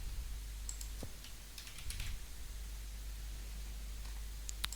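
Faint, scattered clicks of fingers typing on a computer keyboard, a few sparse keystrokes over a low hum and hiss, with no speech.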